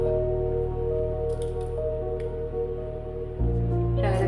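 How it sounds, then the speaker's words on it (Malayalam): Cloves, cinnamon, cardamom and fennel seeds sauté in hot oil for tomato rice, a steady close sizzle and crackle with a low hum beneath and a shift in tone near the end. "പെരിഞ്ജീരകം ഇട്ട് കുറച്ച് വഴറ്റണം."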